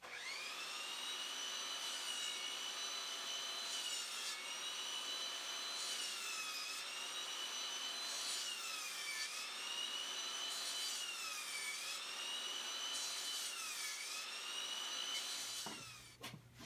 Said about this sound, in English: This is too thick of a board to go through the table saw in one pass, so that's why I'm using the miter saw.